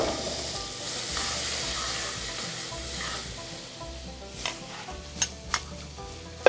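Butter melts into hot olive oil in a pan, giving a continuous moderate sizzle with a low rumbling undertone and a few sharp clicks and taps of a utensil toward the end.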